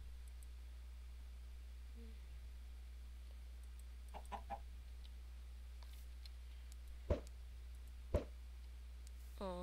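Chickens in Minecraft give short, soft clucks spread across a quiet stretch. A few sharp clicks stand out over a steady low hum, and no one speaks.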